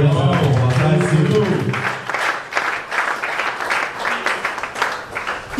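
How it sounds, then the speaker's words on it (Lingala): An audience breaks into loud, sustained applause that swells and continues for several seconds after a speaker's voice at the start. "Acclamez très fort"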